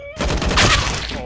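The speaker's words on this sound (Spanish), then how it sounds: "¿Estás disparando?" Gunfire in a video game erupts as a loud, dense volley of rapid shots crackling close by in one sustained burst.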